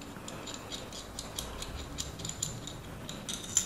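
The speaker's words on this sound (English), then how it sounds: "So just take that screw and screw it in" Small screw being turned by hand into the mounting plate of a Zhiyun Weebill-S gimbal, giving a steady close run of faint scraping, ratcheting clicks with no talk.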